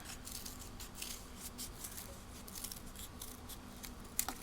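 Scissors snip out a flower petal shape in a quick, quiet series of close cuts, a dozen or so crisp snips in a steady rhythm with no talk over them.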